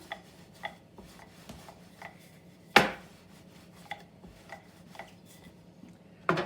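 A rolling pin works bread dough on a floured board for pizza swirls, giving soft scattered thuds and rolling knocks, one sharper bang, all close by and with no talking.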